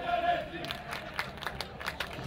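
Football supporters in a stadium at a Parma match, a steady roar of crowd chanting and shouting held at a distance under a commentator's voice.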